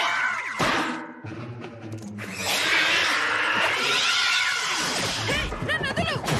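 A cat's meows and yowls come through amid lively background noise and overlapping voices, loud and close.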